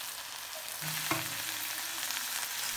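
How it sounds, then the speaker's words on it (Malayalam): Onions and green chillies sauté in a pan, a constant, even sizzle heard up close with a brief utensil knock partway through and no talking. "ഫസ്റ്റ് കുറച്ച് ഉള്ളിയിട്ട് അതിൻ്റെ മുകളിൽ പിന്നെ കുറച്ച് പച്ചമുളകൊക്കെ ഇട്ട് നന്നായി വാട്ടിയതിന്"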